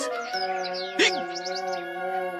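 A groggy bird, scooped up from the ground, gives a few faint, thin chirps over a steady tonal musical background in an animated Twenty Thousand Leagues Under the Sea adaptation, with a brief louder burst partway through.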